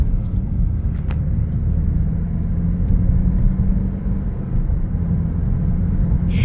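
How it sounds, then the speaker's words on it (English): A 2013 BMW 328i xDrive on a test drive gives a steady low road and engine rumble from inside the cabin, with no voices. "Okay, we're going on a quick test drive."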